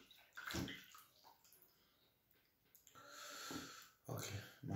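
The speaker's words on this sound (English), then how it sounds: "my hand is super washed now" Hands washed in a bowl of water before a meal of Ghanaian light soup with fufu, giving faint, close splashing and swishing in short bursts with soft breathing between.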